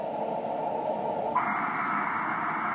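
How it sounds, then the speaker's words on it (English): Amateur radio receiver hissing with steady band noise and static while tuned through the band on a CW filter; a continuous wash of noise whose tone shifts abruptly partway through as the filter or setting changes, with no voices. "even on the CW filter, we've got S8 noise"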